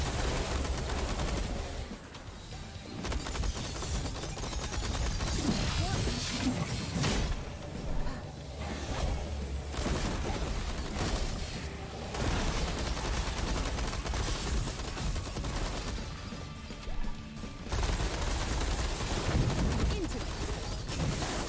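Sustained gunfire and shooting effects fill a busy sci-fi shooter battle in Space Punks, dense and continuous throughout with occasional louder bursts, mixed with game music and effects.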